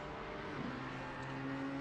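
Race car engine in a sim racing game, a steady sustained drone with a faint pitch shift midway, continuous and moderately close with no talk.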